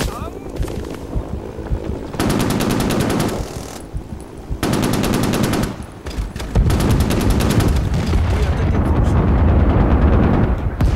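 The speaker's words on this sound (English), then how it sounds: "Artillery coming in on D." An artillery barrage pounds down in Rising Storm 2: Vietnam, heavy blasts mixed with stretches of rapid machine-gun fire, the shelling growing denser and louder toward the end, with voices faint under the din.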